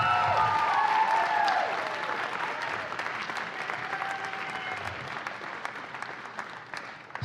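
An audience at an awards ceremony applauds with a few cheers at the start. The clapping fades gradually from loud, dense applause to scattered claps.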